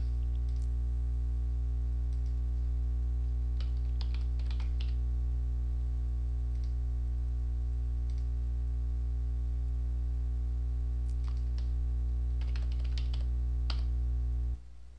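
Soft scattered keystrokes on a computer keyboard entering a name, in short irregular bursts, faint under a loud steady electrical hum.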